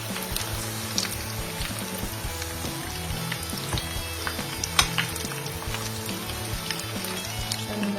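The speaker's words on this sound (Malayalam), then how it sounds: "ഇത് മീഡിയം ഫ്ലെയിമിൽ വെച്ച് ഇങ്ങനെ ഒന്ന് തിരിച്ചിട്ട് കൊടുത്ത് 2 സൈഡും തിരിച്ച് മറിച്ചിട്ട് കൊടുത്ത് വറുത്തെടുക്കാം" Fish cutlets fry in a pan over a medium flame, giving a steady, close crackling sizzle with scattered sharp pops and occasional stirring or turning sounds, and no voices.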